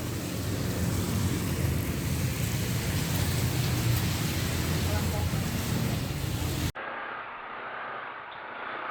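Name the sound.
rain falling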